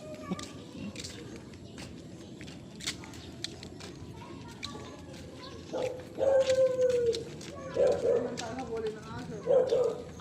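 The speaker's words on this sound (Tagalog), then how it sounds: "Nako. May nakalus na aso dyan" A dog barks and yips several times in Estanzia, growing louder toward the end, with people talking nearby and outdoor background noise.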